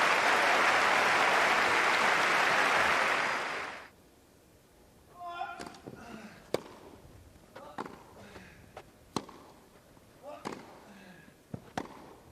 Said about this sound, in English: And warmly applauded by his opponent as well.